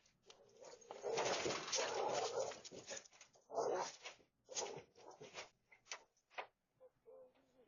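A dog barks and whimpers in short, irregular bursts, caught by a Ring doorbell camera outside a home around midnight in St. Paul, Minnesota; the barks are fairly close and loud at first, then trail off into fainter yelps.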